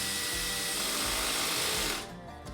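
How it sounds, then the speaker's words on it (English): A power drill on a low setting drives cabinet hardware screws, a steady whirring motor hum held for about two seconds before cutting off, leaving a brief quieter tail. "it's nice to speed up production using a drill"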